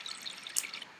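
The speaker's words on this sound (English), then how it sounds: "You can water the plants even." Cartoon watering sound from a children's worm app game as plants are watered: a faint, soft trickle with a few light drips, brief and without voices.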